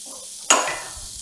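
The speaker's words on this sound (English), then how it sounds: "Okay, so it's nicely browned, and I will add my vegetables." A sudden loud burst of sizzling as chopped onion, celery, poblano peppers and butternut squash hit a hot pot for vegetarian gumbo, fading quickly to a soft hiss with faint stirring.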